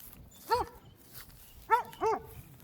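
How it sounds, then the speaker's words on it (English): A dog barks outdoors at a residential property, giving three short, moderately distant barks with a pause after the first, in an otherwise quiet setting. "You have a dog that'll keep you company."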